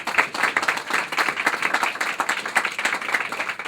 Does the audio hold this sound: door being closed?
no